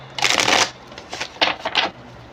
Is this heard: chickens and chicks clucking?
no